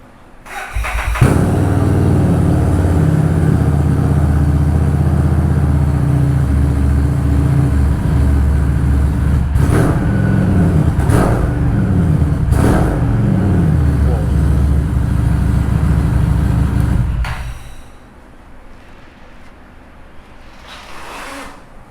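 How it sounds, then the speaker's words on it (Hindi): A Harley-Davidson Street 750 motorcycle engine runs loudly up close, with several sharp throttle blips over a deep steady idle, then cuts off abruptly, leaving quiet background. "गाइस, एग्जॉस्ट नोट सुन के काफ़ी मज़ा आया।"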